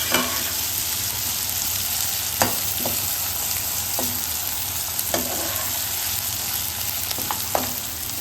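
Onions and tomato sautéing over a high flame in a pan for ragda, a constant loud sizzle broken by several sharp spoon scrapes and taps against the pan.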